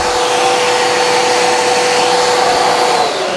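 Bissell AeroSwift vacuum cleaner running with its dusting brush over a dusty table, a steady, loud high-pitched whirring hum with no pauses and no voices.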